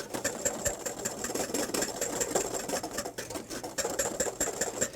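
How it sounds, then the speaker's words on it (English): Rapid, steady rattling of a flexible wire whisk beating sauce in a pan for veal Oscar, close and continuous with a fast even rhythm throughout. "You don't want to stop whisking."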